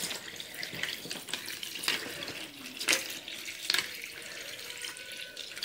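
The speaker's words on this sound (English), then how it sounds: "So I just think we'll add a little more water in there." Water poured into a play tray set up as a small spring pond, a soft continuous trickle and splash broken by a few brighter splashing bursts, fairly close, with no talking.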